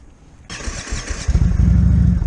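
An Indian Chieftain motorcycle engine fires up after a quiet moment, catching at once and settling into a loud, deep, throbbing idle that grows heavier near the end.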